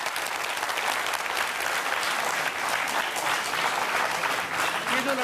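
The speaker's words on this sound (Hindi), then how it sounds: "जरा उस बच्चे के लिए जोरदार तालियां बजाइए" Audience at an Indian talent show applauding loudly and steadily, a dense wash of clapping that holds throughout without letting up.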